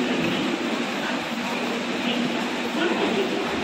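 A train rumbles with a steady, dense roar at a railway station platform in Bangalore, heard close and continuous throughout.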